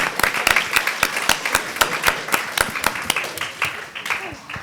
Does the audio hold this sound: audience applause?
yes